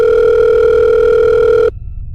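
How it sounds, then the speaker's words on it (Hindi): A steady electronic phone ring tone, loud and close, holding one continuous tone for under two seconds before cutting off abruptly into a low background hiss. "थोड़ी देर बाद समारा का फ़ोन बजा।"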